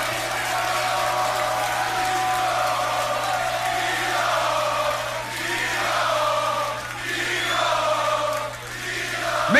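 A live beatbox battle crowd at GBB19 roars and whoops for D-Low, a dense sustained wash of cheering and shouting that swells and dips in waves throughout.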